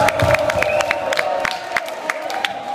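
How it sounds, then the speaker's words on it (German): A lively crowd cheers, whoops and claps for the boss at a live comedy show, loud and close, with a steady sustained shout running through the clapping. "Ein Applaus für die Chefin."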